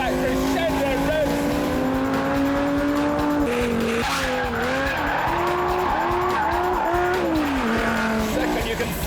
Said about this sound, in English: Oh, hear that crescendo rev.